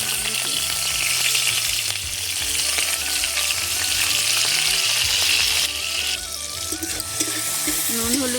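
Shrimp coated in turmeric fry in hot oil in a wok, a loud continuous close sizzle with bubbling crackle and occasional stirring, a voice faintly underneath.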